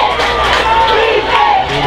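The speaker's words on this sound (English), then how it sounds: "Listen to the crowd." A high school football crowd roars and yells continuously, loud and close, with shouts and whoops rising out of the steady cheering.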